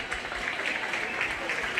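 A crowd at a 4-H/FFA sheep and lambs show claps for the children, a steady patter of applause throughout the short moment.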